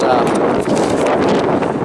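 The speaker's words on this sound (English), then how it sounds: "it's windy" Loud wind buffeting the microphone in a continuous rough rumble that barely lets up.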